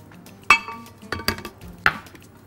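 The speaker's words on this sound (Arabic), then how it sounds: "اضرب البيض مع السكر كويس قوي" A utensil beats eggs with sugar in a bowl for a peach cake, giving several sharp, irregular clinks and taps against the bowl, close and fairly loud, with no voices.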